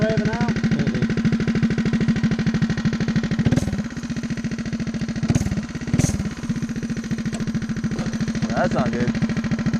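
A Coleman DT200 mini trike engine held at full throttle but failing to rev out, droning steadily with a rough pulsing note, briefly dipping a few times as it struggles.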